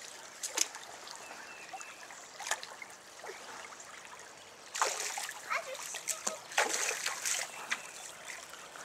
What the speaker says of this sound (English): Sounds like the fish is jumping down there.